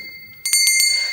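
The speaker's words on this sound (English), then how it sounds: "Could you put that bell away?" A hand bell is rung in a comedy sketch set at a hospital casualty unit, three quick bright rings close by after a quiet start, with a steady high tone underneath.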